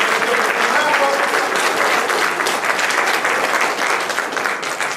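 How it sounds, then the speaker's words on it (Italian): A theatre audience at an amateur dramatic company's show applauds, dense steady clapping from a full room that fills the whole stretch and tapers only slightly at the end, with no one talking. "un applauso"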